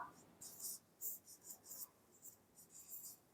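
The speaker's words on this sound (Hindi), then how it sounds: "यहां लिख देती हूं श्रीलंका" Pen or pencil writing by hand on paper, a soft close scratching in short bursty strokes with brief pauses between words.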